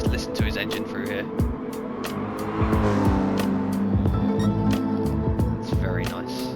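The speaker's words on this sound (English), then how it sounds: "Let's just listen to his engine through here." A race car in Gran Turismo Sport, the engine loudly revving and rising through gear changes, with sharp repeated shifts and brief tire noise, under a commentator's voice.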